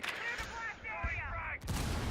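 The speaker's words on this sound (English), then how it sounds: "So an excellently timed explosion there from the Buck." A grenade blast from Rainbow Six Siege gameplay, heard as broad, loud bursts of explosive noise with a sharp renewed burst near the end, mixed with other in-game sounds.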